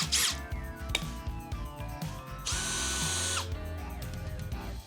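Cordless drill driver on clutch setting 1 driving a screw: a short whirring motor burst, then a sustained high whine that stops as the clutch slips and ratchets with quick clicks, close and clear.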